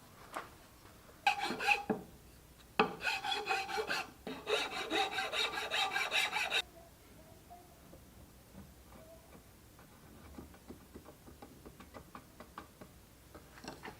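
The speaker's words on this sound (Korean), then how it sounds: "그래서 지금은 이 부분을 살짝 갈아내서 다듬어 갈 거예요." A rasp files the wooden front leg of a Maloof-style rocking chair in a quick series of close, scratchy strokes, then stops, leaving a quiet room with faint knocks.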